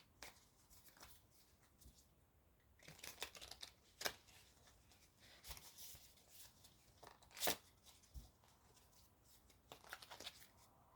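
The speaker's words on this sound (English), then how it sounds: "Okay, so I'm going to shuffle" Tarot cards shuffled by hand, faint and close, with soft irregular riffling and tapping bursts spread across a quiet background.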